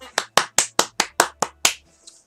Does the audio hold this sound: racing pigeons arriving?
no